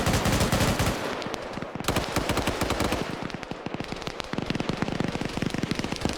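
An M240B machine gun fires long, rapid automatic bursts in a large multiplayer military video game, a dense, loud rattle that runs almost unbroken throughout.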